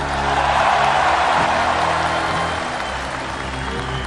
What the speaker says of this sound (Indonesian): Tepuk tangannya kurang semangat.